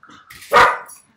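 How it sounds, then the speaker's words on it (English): An angry dog lets out a single loud, harsh bark, close and alone, with a faint growly lead-in before it. "Angry dog."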